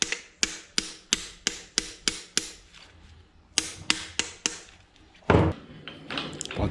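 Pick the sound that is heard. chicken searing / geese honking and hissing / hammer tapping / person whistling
hammer tapping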